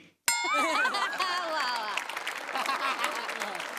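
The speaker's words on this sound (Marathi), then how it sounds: "सगळ्यात जास्त आज टाळ्या वाजल्या पाहिजेत कुणासाठी मला सांगा?" After a sharp opening hit, a theatre audience breaks into loud sustained applause for comedy performers, mixed with cheers, whoops and some laughter, the clapping staying full and even throughout.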